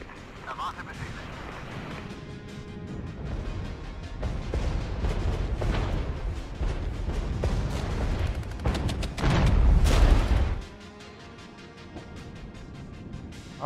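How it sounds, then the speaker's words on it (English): An allied mortar barrage in the Regiments wargame thuds in a series of distant booms and crumps under a talking voice, building to a louder burst toward the end. "We also got this allied mortar helping out a bit, so I think one more barrage and we should be in a decent spot."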